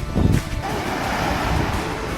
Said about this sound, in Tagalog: Oo, malakas yung alon.